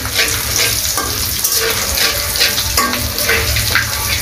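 Cloves, black pepper, cardamom and dried chillies frying in hot oil for a shrimp malai curry, a steady close sizzle with scraping stirring sounds throughout.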